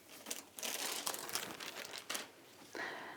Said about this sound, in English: A bit of plastic.